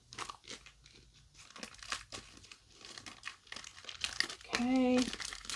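Plastic packaging around adhesive appliqué material crinkles and crackles in steady bursts close by, with a brief voice near the end.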